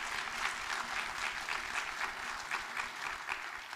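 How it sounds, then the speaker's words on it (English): Steady applause from a morning summit audience, many hands clapping densely and evenly at moderate volume for the whole stretch, with no voices rising above it. "let's give them a nice hand of applause."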